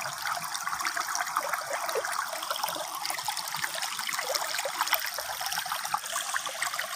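A jungle stream in Malaysia at Bukit Kiara's forest park, with water trickling and babbling steadily, a constant close bright wash with no voices.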